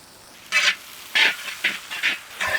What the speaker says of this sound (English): We have to saute these veggies on high flame